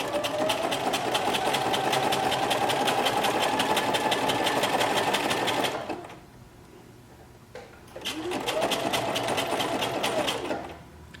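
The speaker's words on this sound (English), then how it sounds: "And then I'll just sew straight up along the seam allowance line." Domestic sewing machine stitching a knit fabric hem along the seam allowance, running steadily and fairly close for about six seconds, pausing, then starting up again for a shorter second run.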